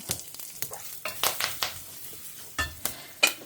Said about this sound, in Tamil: இதில் ஜஸ்ட்டு கடுகு, ஜீரகம் தாளிச்சிக்கலாம். கடுகு பொரிய ஆரம்பிச்சிருத்து.